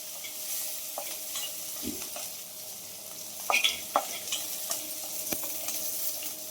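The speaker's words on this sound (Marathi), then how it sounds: "मिरच्या आणि लसूण मस्त होऊ दे." Chillies and garlic fry with cumin in hot oil, a constant close sizzle broken by a few sharp clicks and scrapes of a stirring spoon against the pan.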